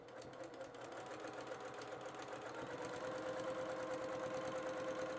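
A sewing machine stitches through several layers of fabric at the seam of a fabric composition book cover, running as a steady fast rhythmic whir that holds close and even from start to finish, with no talk.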